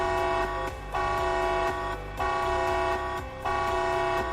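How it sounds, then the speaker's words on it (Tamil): Zepto app order-packed alert, a loud sustained horn-like electronic tone pulsing in roughly one-second blasts with short dips between them, alone without speech. "ஆர்டர் பேக் ஆன அப்புறம் நீங்கள் கேட்கும் அலர்ட் இது."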